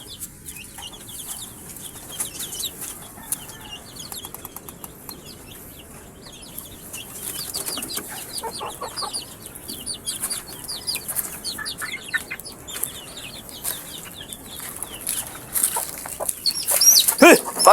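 Chickens clucking around young chicks in a rural yard, scattered soft clucks and chirps at moderate distance growing busier and louder toward the end, with outdoor background noise.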